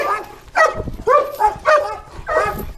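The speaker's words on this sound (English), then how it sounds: "Friendly dog." A friendly dog barks in open countryside near Standish, Wigan, giving four loud, separate bursts spaced about half a second apart, close by with no talk over them.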